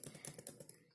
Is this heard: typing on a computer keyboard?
yes